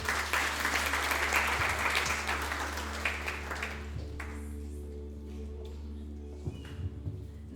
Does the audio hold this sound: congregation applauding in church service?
yes